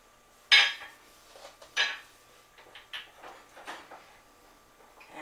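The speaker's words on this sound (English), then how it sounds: "I'm stirring this well to make sure that all of those are well incorporated" A spoon stirs dry mustard and cayenne pepper into a grits mixture in a bowl, producing a few sharp clinks followed by quieter scraping taps at an irregular rhythm, close by and fairly faint.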